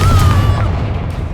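A Confringo fire spell in the game Hogwarts Legacy bursts in a single loud, near explosion that rolls off and fades over about a second, with no talk over it.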